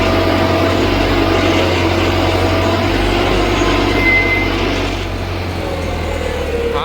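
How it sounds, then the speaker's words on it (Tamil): Farmtrac 6065 tractor diesel engine held steady at 1500 RPM with a heavy cultivator, a loud continuous close-up drone with a low rumble that stays even throughout. "அப்படியே 1500 RPM அப்படியே மெயின்டைன் பண்ணி ஓடுதுங்க இந்த இன்ஜின்."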